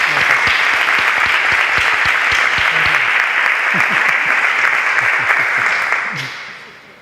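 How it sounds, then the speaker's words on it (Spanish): A conference audience gives a strong welcome round of clapping for a speaker, dense and loud throughout before fading out at the end. "yo quiero pedir un muy fuerte aplauso de bienvenida hacia él"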